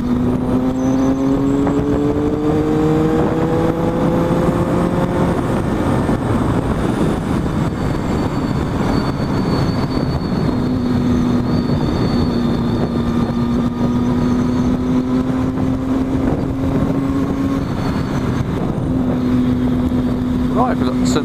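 A car engine revs and accelerates hard along a quiet, hazy autumn country road near Kop Hill, a loud steady drone with rising and falling pitch that continues throughout.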